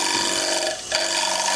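A close, coarse scraping hiss of a gouge cutting into spinning wood on a lathe, continuous with a brief dip midway.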